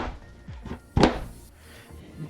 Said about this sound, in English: bang my spinner to pop some bubbles